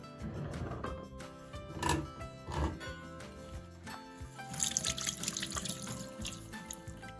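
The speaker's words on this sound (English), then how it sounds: "I just drain the beans into the strainer and let all that fluid come" Liquid from canned cut green beans pours into a strainer, a close, uneven trickle and splash that swells in short bursts, then tails off into a lighter, brighter spatter.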